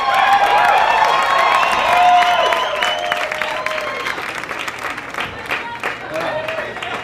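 A sold-out concert crowd applauding loudly in a packed room, dense clapping with cheers, a voice speaking over it as the applause thins and continues.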